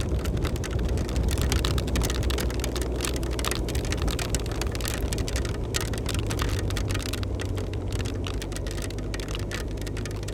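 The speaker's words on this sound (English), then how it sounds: "the rain is coming down" Steady rain falls on open ground at a racecourse, a dense continuous hiss with scattered close patters and a low rumble beneath, unbroken throughout.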